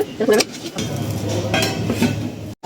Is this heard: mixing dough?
yes